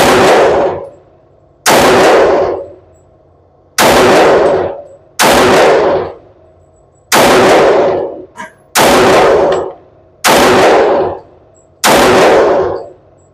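A Remington R1 Limited 1911 pistol empties a magazine in eight loud, evenly spaced shots, each one a sharp crack with a ringing tail, plus a small metallic clink between two of the shots.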